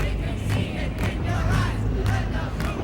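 Crowd at a dark indie film scene chanting and cheering, a dense, loud roar of many voices in rhythmic surges, close and continuous for a few seconds.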